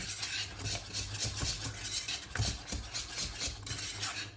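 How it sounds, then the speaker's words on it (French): A pan of vanilla pastry cream made with a Madagascar vanilla pod is stirred steadily for a minute as it comes to the boil, giving a continuous scraping and swishing of utensil against the pan at close range, with no talking. "je mélange une bonne minute"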